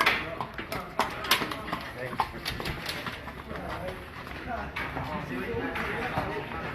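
Horses trotting toward the start of a harness race, with light, rhythmic hoofbeats on the track heard fairly faintly beneath a race caller's ongoing commentary.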